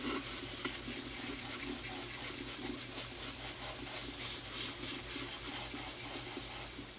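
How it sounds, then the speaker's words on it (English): Cold water from a hand sprayer hisses steadily as it washes soil off a variegated banana plant, a close, continuous spray with no voices. "I'm going to spray it, use my sprayer to get all the soil out of the plant."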